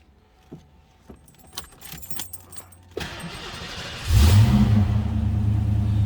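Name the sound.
1991 Ford Mustang LX engine starting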